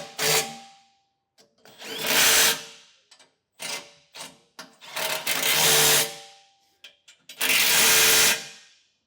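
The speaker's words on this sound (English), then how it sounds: "Now we'll get these snugged down with a 3/4 inch socket." A power tool with a 3/4 inch socket snugs down bolts on a B&W Companion OEM 5th wheel hitch in a 2020 Ram 3500, heard as six or seven close, loud bursts of whirring and rattling separated by short silences.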